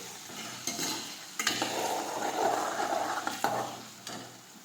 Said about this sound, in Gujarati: હવે આપણે સાતળી લેશું થોડી વાર આપણે સાતળશું